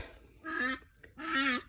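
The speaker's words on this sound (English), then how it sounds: "Excuse the ducks." Ducks in a kitchen garden give two loud, nasal honking quacks in quick succession, close by and alone with no talk.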